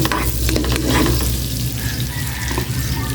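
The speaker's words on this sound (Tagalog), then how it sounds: "igisa ko na itong bawang" Garlic and onion sauté in a hot pan, a steady close sizzle with stirring scrapes and clatter running throughout.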